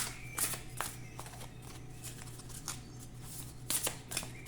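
Oracle cards being shuffled by hand, a close, quiet riffling with a few sharper flurries of card slaps, heard alone without talk.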